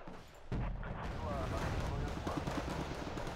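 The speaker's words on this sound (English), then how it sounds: "Mortar's coming in." Incoming mortar rounds land in the strategy game Wargame: Red Dragon, a sudden heavy blast followed by a sustained rumbling barrage of impacts and debris, fairly loud and continuous.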